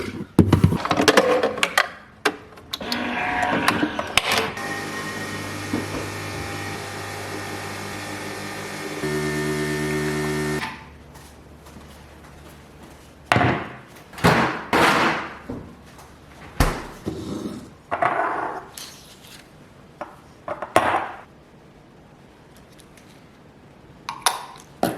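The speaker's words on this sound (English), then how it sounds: "I'm gonna make myself another coffee because I'm exhausted. Day 17, espresso bianco piccolo." A home coffee machine brewing an espresso bianco piccolo: a steady mechanical pump hum with a tonal drone that stops abruptly, surrounded by clattering cup and door knocks nearby, no speech.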